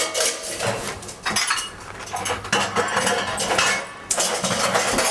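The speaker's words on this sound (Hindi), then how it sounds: "अब बर्तन तो मत पटक" Metal kitchen utensils and pots banged and clattered near a sink, a rapid series of loud, sharp clinks and crashes with brief pauses between bursts.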